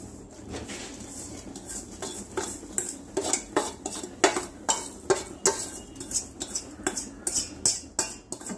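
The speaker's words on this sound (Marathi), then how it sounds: "हे चांगल्या प्रकारे हलवून मिक्स करून घ्यायचं आहे आपल्याला." A spoon stirs and scrapes around a pot of jelly mixture in hot water, with repeated rhythmic clinks and knocks that grow steadier and louder, without speech.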